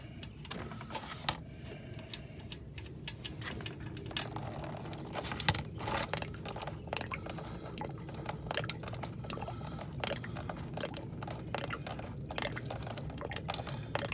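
Transmission fluid drains from a car into a pan, a continuous close trickling and dripping with occasional glugs, no voices present.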